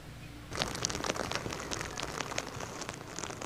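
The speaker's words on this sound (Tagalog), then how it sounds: "malakas na hangin na sinasabayan ng pabugso-bugsong pag-ulan ang nararanasan natin dito sa Kasiguran sa Aurora" Heavy, gusty typhoon rain driven by strong wind in Kasiguran, Aurora, a dense, steady rushing hiss that starts abruptly and keeps going, fairly faint and distant, with no talking.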